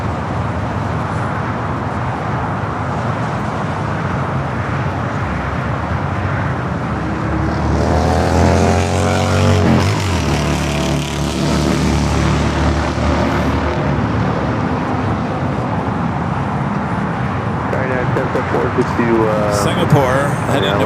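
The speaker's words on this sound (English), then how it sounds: "Our new British Airways flight 281 coming in from London Heathrow." A British Airways heavy jet, flight 281 from London Heathrow, arrives at LAX, its roar swelling from a steady background rumble to a loud close pass midway, then easing off, with someone talking over it.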